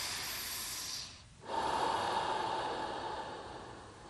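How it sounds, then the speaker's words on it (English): Deep, slow breaths during a yoga session: a long airy exhale, a brief pause, then a strong breathy inhale that tapers off, close and alone. "Okay, breathing deep."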